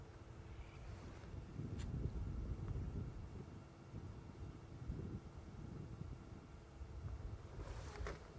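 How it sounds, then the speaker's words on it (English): Wind gusting across open bush on an afternoon safari drive, a steady low rumble and buffeting against the microphone that swells and eases over several seconds, with no voices. "I think partly with just this wind blowing"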